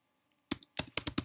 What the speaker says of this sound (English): I'm going to search for the command prompt by typing CMD.